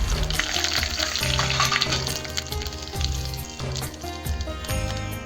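Bay leaves and cumin seeds sizzle in hot oil for dum aloo, a lively continuous crackle and spatter, close and fairly loud, with a background musical tune playing alongside.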